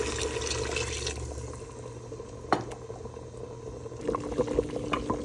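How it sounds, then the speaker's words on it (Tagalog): Pieces of meat for lamb kabsa boil in hot water with tomato sauce and lemon, a steady close bubbling with a brief clink partway through. "At pakuluan natin to hanggang lumambot yung karne natin."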